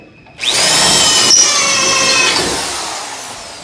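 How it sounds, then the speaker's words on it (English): A power drill fitted with a step bit bores a hole through aluminum used for boat building. The motor starts abruptly, whines loudly and close for about two seconds, then winds down and fades. "This step drill or unibit"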